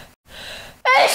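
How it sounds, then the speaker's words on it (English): A single short sneeze: a brief intake of breath followed by a sudden loud burst, alone and close, with no talking. "Because people sneeze."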